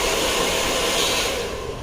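A handheld blow dryer roars with a loud, steady airflow while drying hair in a beauty salon during a hair colour treatment. The rushing air fills the space from close by, alone and without talk.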